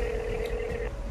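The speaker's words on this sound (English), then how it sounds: "I'm gonna call the only number on this phone" A found phone dials out, giving a steady electronic tone with a short beep near the end, clear and close with no speech.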